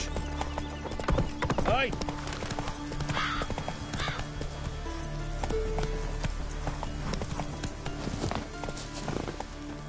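Roach, a horse in The Witcher 3 video game, clip-clops with steady hoofbeats and whinnies now and then, set under game music and a brief spoken line.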